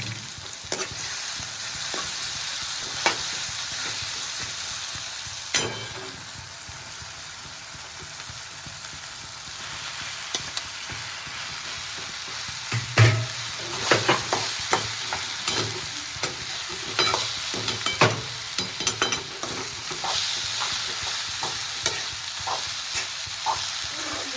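Gujarati-style potato poha stirs and fries in a pan, giving a steady sizzle with scraping and clinks of the spoon throughout, close and continuous, and nobody speaks.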